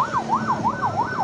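Ambulance siren wailing in a steady, repeating up-and-down sweep, about five cycles in quick succession, loud and close with no talk over it.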